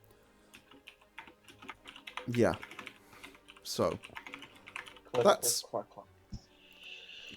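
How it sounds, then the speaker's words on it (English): Soft, scattered keystrokes from a computer keyboard tap along under an online group conversation, with people talking over them in short bursts. "Clickety-clackety, Lewis is typing."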